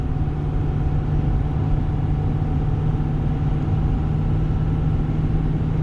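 A 2021 Ford F450 towing a heavy trailer at highway speed in seventh gear gives a steady, loud low-pitched engine drone that holds constant throughout, with no speech.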